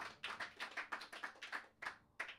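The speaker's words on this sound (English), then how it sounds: "Appreciate the applause." A small audience at a gig applauds between songs, giving a sparse, faint spatter of individual claps that comes in uneven bursts with no voices.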